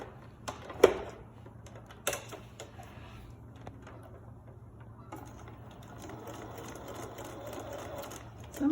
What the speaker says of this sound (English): Sometimes it's hard to get your machine to sew over the thickness of the pleats